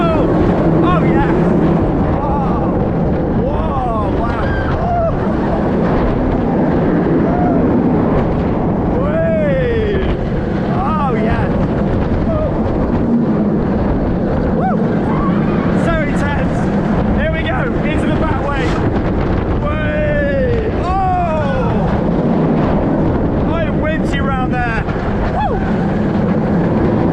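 Riders scream and whoop aboard the Montu roller coaster at Busch Gardens Tampa Bay, with loud rushing wind and rumbling track noise roaring continuously close to the microphone while a voice shouts excitedly.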